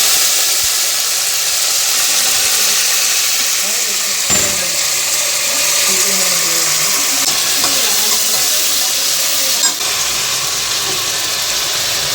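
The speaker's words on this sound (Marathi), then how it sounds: "मस्तपैकी लसूण जिऱ्याची फोडणी दिली" Steady broadband hiss of garlic and cumin tempering sizzling in hot oil, continuous and close, with faint background voices.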